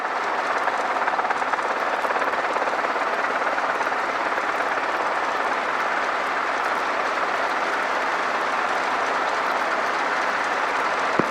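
A Robinson R22 helicopter in flight during a training lesson, heard as a steady, loud broadband rotor and engine roar with a fine rapid flutter, continuous and unchanging throughout with no talk.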